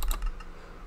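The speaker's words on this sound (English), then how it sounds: "Hopefully this clicking, hopefully I can get a mouse, something that doesn't make clicking." Computer mouse clicking near the microphone during modded Minecraft play, a few quick sharp clicks in the first half second, fairly quiet, then a soft fading tail with no voice.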